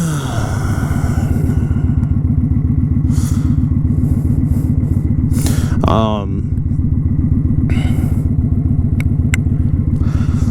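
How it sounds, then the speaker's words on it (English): A 2018 Kawasaki Vulcan 900 Custom motorcycle engine runs steadily at idle up close, with an even, throbbing pulse and a few brief metallic clatters and scrapes over it. "first I want to get that motorcycle running"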